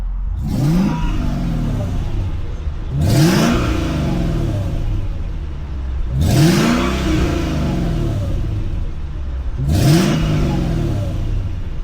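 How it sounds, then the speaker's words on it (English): A supercharged V8 in a Mercedes-Benz E55 AMG revs four times in sharp, evenly spaced bursts, each climbing and falling back to a loud idle rumble close by. "Let's do a couple of revs."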